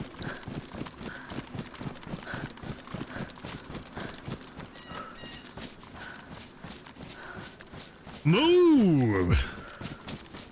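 A horse in the survival video game DayZ gallops with a steady, rapid clip-clop of hooves throughout, and a voice shouts briefly near the end.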